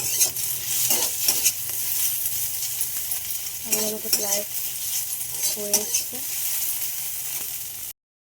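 Egg and potatoes frying in a home kitchen pan, a steady hiss of sizzling oil throughout with occasional stirring scrapes and someone speaking briefly over it.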